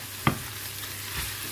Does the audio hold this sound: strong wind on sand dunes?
no